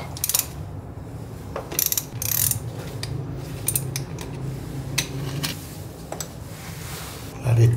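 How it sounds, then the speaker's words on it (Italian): Repeated ratchet clicking from a 3/4-to-1/2 reducer and oil filter wrench removing a car's oil filter during a service, bursts of rapid clicks spread through the clip with a low background hum. "Ora passiamo al filtro dell'olio. Ci mettiamo la sua chiave. Riduttore da 3/4 a 1/2."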